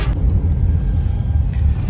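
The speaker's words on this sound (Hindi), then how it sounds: "एक गाड़ी आ गया, ये हमारी गाड़ी है।" A car comes along the road, a low, continuous engine rumble that stays fairly loud and close throughout, with no voices over it.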